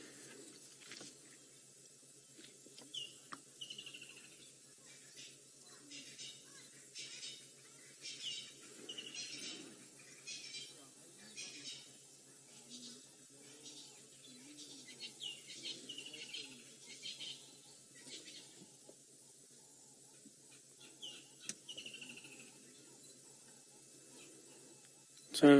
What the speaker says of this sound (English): There's grey go-away birds.